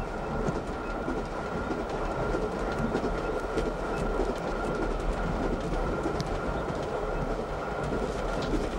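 A train runs on the rails of the Orient Express, producing a steady loud rumble with the rhythmic clickety-clack of the wheels throughout and no talking.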